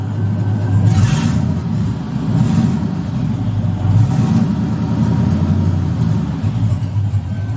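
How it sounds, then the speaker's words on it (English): An LS-swapped car engine idles with a low rumble, then revs up in a few swelling bursts of throttle, heard up close with no talking. "But watch what happens when I give it gas."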